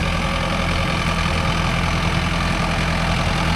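Mahindra Arjun Novo 605 DI tractor engine running steadily, a loud, continuous low diesel drone with a thrumming rhythm, close and unbroken throughout.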